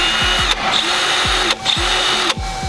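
Milwaukee 3/8 inch right angle cordless impact wrench running at high speed, a loud continuous whirring hammer buzz with brief dips roughly every second, close to the mic and alone.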